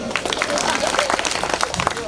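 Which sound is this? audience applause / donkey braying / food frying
audience applause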